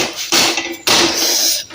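A spoon scrapes and clanks against a pan as a jaggery and lentil mixture is stirred on the stove, two sharp bursts of metallic scraping close by.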